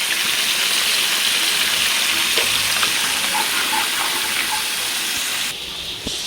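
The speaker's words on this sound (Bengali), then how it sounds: "একটু জল দিয়ে দেবো" Water poured into a pan of frying fish curry, a loud steady gush and sizzle close by that runs continuously and drops slightly at the end.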